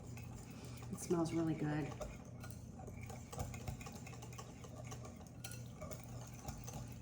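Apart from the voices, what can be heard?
stirring lemon bar filling, breaking up egg yolks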